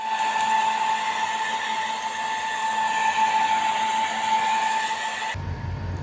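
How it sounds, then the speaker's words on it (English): A hair dryer blows on a dog with a steady high whine and rushing air, close and loud, then its pitch drops abruptly near the end. "I'm gonna dry him inside using a hair dryer."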